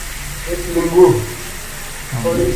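Food frying in a pan, a dish made with garlic, chillies, turmeric and salt, gives a steady close sizzle and hiss throughout, with brief voices rising over it midway and again at the end.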